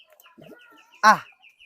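Birds calling in the early morning at Telaga Herang lake in Majalengka, with soft chirps and a rooster-like cluck followed by one loud, close call, then fainter chirps.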